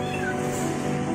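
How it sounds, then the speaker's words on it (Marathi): A small kitten gives one short, close, continuous meow that fills the brief moment, with faint voices in the background. "मांजर आहे, कुठे गेली, खाली लपली"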